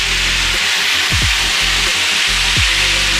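Beef teriyaki sizzles in a hot pan as a steady, loud frying hiss with occasional low scraping stir sounds.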